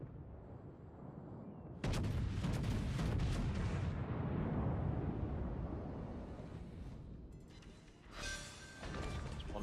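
Heavy naval guns of the battleship Scharnhorst boom in World of Warships, a loud sudden blast followed by a long rumbling roar that slowly fades, then a second lighter burst near the end.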